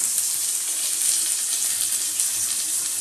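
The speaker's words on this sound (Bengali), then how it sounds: "এই জন্য আলুটা আগে ভেজে নিচ্ছি" Potatoes frying in a pan, a steady, dense, hissing sizzle holding at an even level throughout with no pauses.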